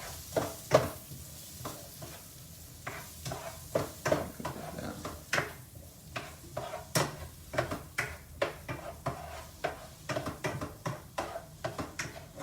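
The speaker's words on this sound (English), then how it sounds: "So we're going to go ahead and just cook this down right here." Mushrooms cooking down in a hot pan for a keto soul food dish, with a steady sizzle broken by repeated sharp clicks and scrapes of stirring, close and fairly quiet with no talk.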